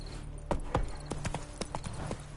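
Roach, the horse in The Witcher 3, gallops with a quick, uneven series of distinct hoof clip-clops that ring out clearly up close over a low steady rumble, with no voices.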